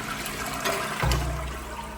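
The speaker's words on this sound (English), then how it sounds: "I'll hold it down for just a second and let's see if it flushes better" A toilet with a weak flush is flushed with its lever held down: a steady rush of running water that surges into a stronger, louder swirl about halfway through and keeps pouring.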